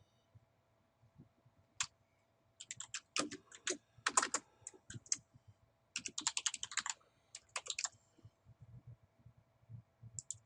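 An email address being typed on a computer keyboard: close, crisp key clicks in irregular bursts with short pauses between them, no voices.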